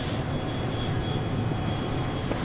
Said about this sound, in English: Hello, plane.